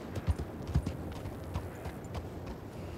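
Horse hoofbeats clip-clopping at a steady walking rhythm in the Red Dead Online video game, moderately close and fairly quiet over faint background ambience.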